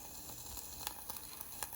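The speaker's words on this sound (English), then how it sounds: "You can hear it starting to sizzle now." Pumpkin latte mixture sizzling in a saucepan, a soft steady hiss and bubbling with a few brief louder crackles, close and fairly quiet.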